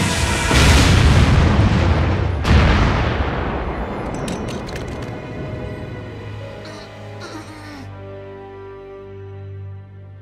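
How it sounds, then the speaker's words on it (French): A harness explodes in an animated cartoon. A loud, booming blast with a second heavy hit follows, then a long rumbling decay, settling into ringing, scattered debris-like tones, close and without talk. "Le harnais va exploser"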